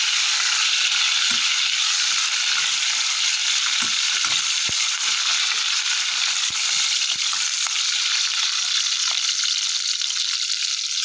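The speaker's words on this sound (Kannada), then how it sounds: "ಬಾದಾಮಿ, ಗೋಡಂಬಿ, ಸ್ವಲ್ಪ ಫ್ರೈ ಆಗ್ತಿದ್ದಂಗೆ" Almonds and cashews frying in a pan, a loud, dense hissing sizzle held steady throughout, with occasional soft knocks of a spoon against the pan and no speech.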